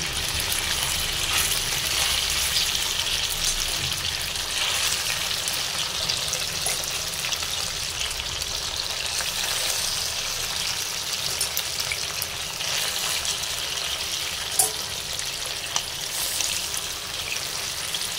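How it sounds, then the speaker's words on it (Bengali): Chicken pieces deep-frying in plenty of hot oil give off a dense, continuous crackling hiss, steady and close for the whole stretch, with a faint clink or two near the end and no voices. "তো এই দেখো, আমি চিকেনগুলোকে কিন্তু ভেজে নিচ্ছি।"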